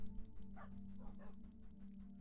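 Wolves (tamed dogs) in the Minecraft video game yip and whimper in a few short bursts over a steady droning background of game sound, fairly quiet.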